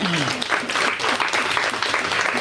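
An audience at a live poetry night claps in a short, dense burst of applause that carries steadily throughout.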